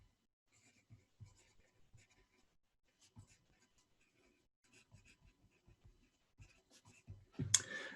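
Pen or chalk strokes writing equations by hand in a quiet lecture room, faint scattered taps and scratches in short irregular bursts, ending with a louder rustle.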